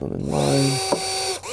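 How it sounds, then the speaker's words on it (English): A small handheld electric drill whirs briefly against a skateboard deck while marking where rails will go, its motor pitch rising and falling in short close bursts with a brief word spoken. "use this little drill right here and just mark up where I actually want the rails to be"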